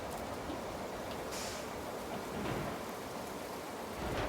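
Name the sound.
rain in the video game RoadCraft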